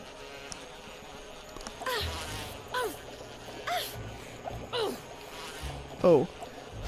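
Buzzing of a bee in the Resident Evil Remastered HD video game comes in several short swooping passes over a quiet ambient background, the last one loudest.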